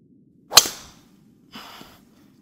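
A golf driver strikes a ball in an indoor golf dome, a single sharp, loud crack followed by a fading tail, then a softer whooshing sound a second later over a quiet low hum.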